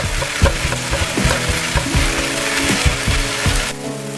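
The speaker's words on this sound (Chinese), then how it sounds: "这时候放入葱绿部分，再翻炒1分钟左右" Loud, steady sizzling of scallions stir-fried in a hot wok, with repeated scraping and clattering as the spatula tosses them.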